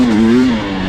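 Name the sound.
2021 KTM 300 XCW dirt bike engine revving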